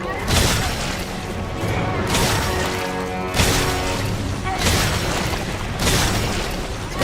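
Albert-01 handgun firing gas-filled bullets in Resident Evil 7, several heavy booming shots spaced a second or two apart, each with a crashing impact and a long reverberant tail, with someone talking over it.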